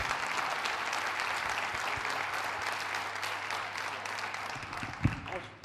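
An audience at a foundation conference on Portugal in Europe claps in a sustained, fairly distant patter with a faint hum beneath and one sharper thump near the end.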